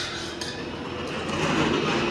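Garlic stirred in a pan while cooking shrimp scampi gives a continuous sizzling hiss with faint utensil scraping against the pan, close and steady and growing slightly louder toward the end.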